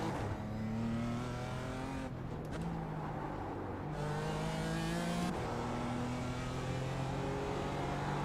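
BMW M4 GT4 race car at Summit Point Raceway in a racing game, its engine loud and close as it revs up through the gears, drops in pitch on lifts and braking and climbs again, with brief tire squeal.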